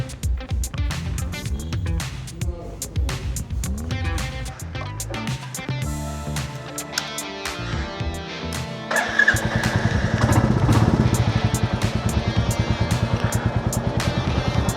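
A Royal Enfield Meteor 350 motorcycle engine runs with a close, thumping single-cylinder idle, then grows louder and steadier at the end as it is revved or pulls away.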